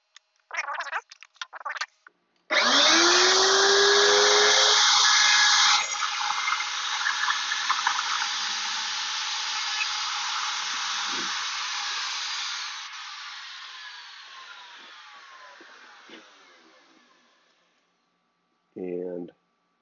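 A Shopsmith machine whines up to speed and trims the faces of a wooden tenon, giving a loud, steady, hissing roar that keeps going for about ten seconds and then slowly spins down. Brief bits of talk come just before and at the end.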